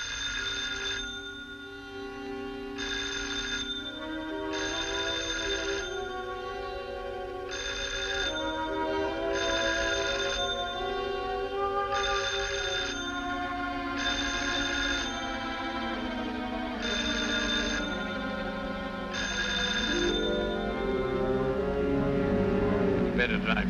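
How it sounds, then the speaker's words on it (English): Telephone bell ringing in repeated bursts against a steady background, with people talking over it in a 1940s Sherlock Holmes film scene. "I can hear it ringing."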